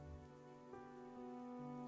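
Steady rain falling in a video game, a continuous soft patter heard alone over a low ambient hum with no voices.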